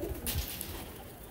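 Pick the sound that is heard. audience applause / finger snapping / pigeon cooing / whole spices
pigeon cooing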